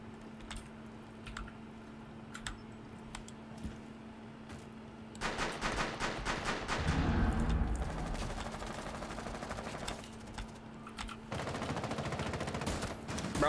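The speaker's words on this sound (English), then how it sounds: "I'm literally getting shot at from all angles" Bursts of rapid gunfire in Rainbow Six Siege erupt after a quiet stretch of sparse shots, with a heavy rattling volley and deep impact in the middle, then continued crackling fire, fairly close and loud, with no talk.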